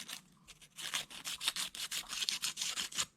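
Glued plastic RC car body parts are scuffed with rapid, rhythmic back-and-forth rubbing strokes, close and fairly quiet, alone without talk for about three seconds.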